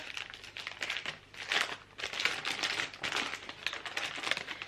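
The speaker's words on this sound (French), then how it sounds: "Alors, attendez, je déballe, je déballe." Packaged Boulette d'Avesnes cheese is unwrapped close up, with continuous crinkling and rustling of the wrapper in quick, uneven bursts.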